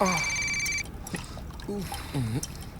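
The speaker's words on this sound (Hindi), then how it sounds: "अरे कौन है जो बाथरूम में भी फोन कर रहा है?" A telephone rings in a bathroom, repeated tonal trills at first, then fainter beeps while someone talks over them.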